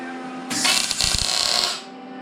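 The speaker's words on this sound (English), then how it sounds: "he is welding on a Kia board" Welding on a board inside a car interior install, a dense hissing burst of about 1.3 seconds with crackling pulses, loud and close, surrounded by quiet room tone.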